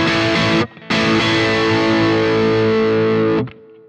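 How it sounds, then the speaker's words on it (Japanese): A distorted electric guitar plays through a BOSS GT-1000 Marshall amp model, loud sustained chords with a brief cut, ringing out and then stopping abruptly. "ヴィンテージマーシャルの歪みの足りなさをちょっとマキシマムした感じですね"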